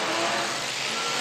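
A race car engine roars loud and close as the car flies past during a late-lap race at a local racing event, a steady, full-throated drone filling the whole clip with no talk.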